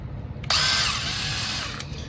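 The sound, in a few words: power drill drilling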